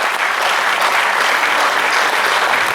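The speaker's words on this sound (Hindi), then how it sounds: "तालियां बजाइए" An audience at a Hindi comedy poetry gathering at Kala Mandir in Bhilai claps loudly, a dense, even burst of applause filling the whole short stretch.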